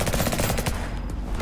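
Dense rapid gunfire from the video game Liberated, a continuous rattling burst of shots that fills the whole moment, loud and close.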